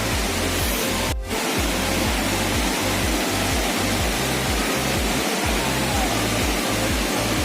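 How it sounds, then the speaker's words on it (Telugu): Loud, continuous roar of Kaigal waterfall, a dense broadband rush heard close by with no voices. "ఇది కైగల వాటర్ ఫాల్స్."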